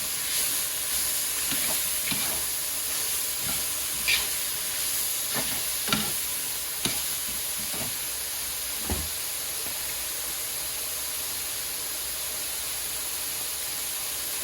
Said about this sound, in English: The onions will also help deglaze the pan.